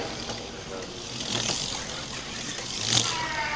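A Dodge Viper engine in a racing video game revs steadily under a voice, swelling louder toward the end with a brief sharper peak near the close.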